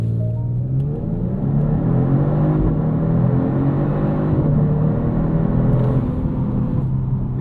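A 2024 Genesis G70 3.3T twin-turbo V6 in Sport Plus mode on launch control gives a loud, close, sustained engine drone whose pitch climbs and wavers as the revs are held and built.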